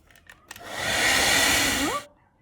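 A hair dryer drying decoupage on a glass bowl blows loudly and steadily for about a second and a half, its pitch rising as it switches off, with a few faint taps just before it.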